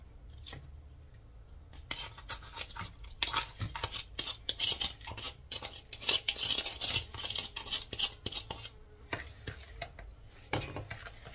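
Sugar stirred into a blackberry mixture, rapid close scraping and rubbing of a utensil against a vessel in irregular bursts, fairly quiet.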